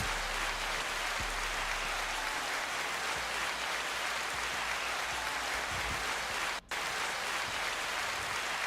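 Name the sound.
clapping sound effect on radio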